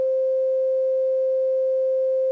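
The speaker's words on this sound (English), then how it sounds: "there's our sine wave, and you should be able to hear that through the amp" A pure sine-wave tone generated by a DAC and played through an amplifier, one steady unbroken hum at constant loudness, clean and alone for about two seconds.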